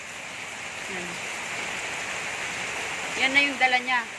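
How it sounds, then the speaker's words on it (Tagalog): Steady heavy rain hisses throughout, with a person speaking briefly over it near the end. "Hindi ko alam kung naririnig nyo ako kasi masyadong malakas yung ulan."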